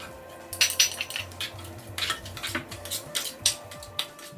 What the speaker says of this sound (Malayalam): ഇനി നമുക്ക് ഈ ചൂടായ എണ്ണ ഈ മാരിനേറ്റ് ചെയ്ത ഓറഞ്ചും നാരങ്ങയിലേക്കും ആഡ് ചെയ്ത് ഒന്ന് നല്ലോണം മിക്സ് ചെയ്ത് എടുക്കുക.